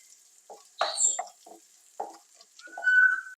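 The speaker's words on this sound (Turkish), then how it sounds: "Biberlerimizi sürekli karıştırarak güzelce kızartıyoruz." Peppers frying in butter in a pan for Alaçatı-style atom meze, with intermittent stirring and scraping sounds in short bursts, close and moderately loud.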